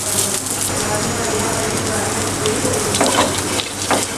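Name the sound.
dry fruits roasting in desi ghee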